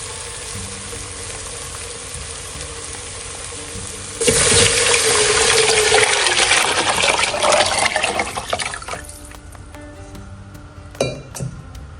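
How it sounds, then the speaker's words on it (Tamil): Tamarind water pours into a hot pan of rasam tempering, a sudden loud rush and splash of liquid lasting several seconds before fading into a gentle simmer with a few utensil knocks. "நம்ம அந்த புளி தண்ணியை இதெல்லாம் சேர்த்துருவோம்"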